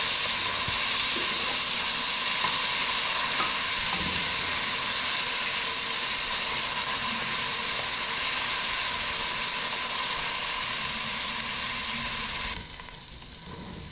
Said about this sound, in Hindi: देखिए हमारे प्याज लहसुन अदरक अच्छी तरह से फ्राई हो चुका है